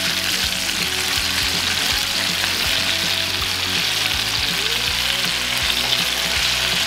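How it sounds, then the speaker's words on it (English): Steak frying in a pan with butter just added gives a loud, steady sizzle that runs unbroken from start to finish, close up and with no voices. "Now we're gonna add in a generous amount of butter."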